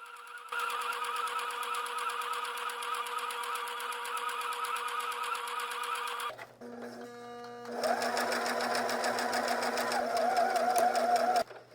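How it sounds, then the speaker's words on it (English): A sewing machine stitches a felt Minnie Mouse ear onto a piece of lace, running steadily and close, pausing briefly midway as the fabric is pivoted, then resuming its fast, even whir. "Sew each ear to the lace."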